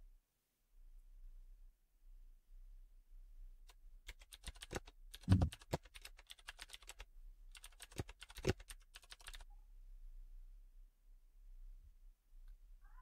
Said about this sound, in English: type your text like I'm typing